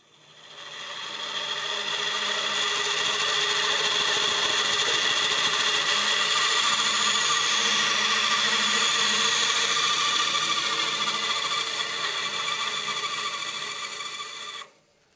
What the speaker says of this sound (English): Then we can head over to the bandsaw.